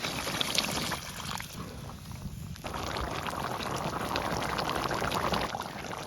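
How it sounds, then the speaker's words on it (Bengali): Water is poured into a pan of snakehead fish curry simmering with well-fried spices, cooked outdoors under an amla tree. A steady close splashing pour runs throughout, with bubbling and clatter and no talk. "এখন হারা জল দিয়ে দিব।"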